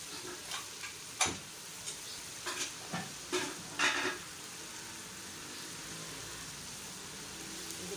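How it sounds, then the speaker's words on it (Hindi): Masala frying in oil, a faint, low sizzle with a few soft spoon scrapes and clicks early on, then a quiet steady hiss. "मसाला भुन चुका है और ऑयल ने मसाले को छोड़ दिया है"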